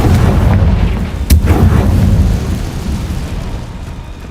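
A Confringo blasting spell explodes in Hogwarts Legacy with a loud, deep, rumbling boom and a sharp crack partway through, followed by a long decaying roar that fades out.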